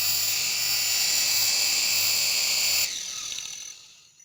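SG907 drone in flight on a test run, a loud high-pitched whining buzz of small propellers that holds steady for nearly three seconds, then drops and fades as it moves off.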